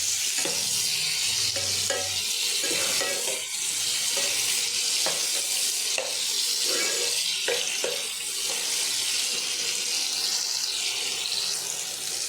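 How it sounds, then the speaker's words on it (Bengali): Tomato and onion frying with a little salt for a potato and bitter gourd curry, a steady hissing sizzle with repeated spatula scrapes and taps against the pan, close and continuous, no one talking. "সামান্য একটু লবণ দিয়ে আমি সব কিছু আরেকবার ভেজে নেব ভালো করে।"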